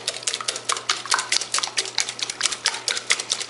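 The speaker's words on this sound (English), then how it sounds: "Then gradually whisk in the castor or berry sugar" A whisk rhythmically beating castor sugar into eggs in a bowl for Chinese egg tarts, with rapid, steady clicking and scraping strokes close by, no voices.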